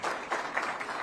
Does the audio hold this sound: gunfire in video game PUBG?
no